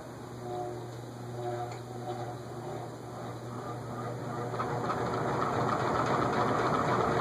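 An Emerson Longnose antique ceiling fan hums steadily with a low motor drone, a faint irregular rattling building and growing louder toward the end.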